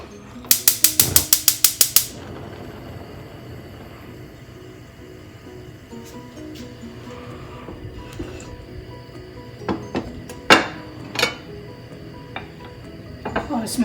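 A gas stove in a home kitchen is switched on for cooking chapli kababs: a quick burst of about eight sharp igniter clicks, followed by quieter clinks and knocks of kitchen handling.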